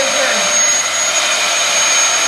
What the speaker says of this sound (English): Katie's actually vacuuming right now